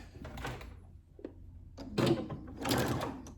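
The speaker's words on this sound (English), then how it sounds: "I'm just going to start sewing a little bit here." Brother Essence VM5200 sewing machine stitching fabric, with bursts of mechanical whirring and clatter separated by brief pauses and small clicks of the presser foot, close and moderately loud.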